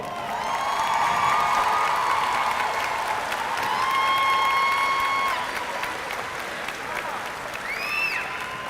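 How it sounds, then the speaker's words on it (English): Sustained applause from a crowd at a graduation ceremony, with whoops and cheers rising over the clapping before it eases slightly toward the end. "give Ms. Alexander a round of applause"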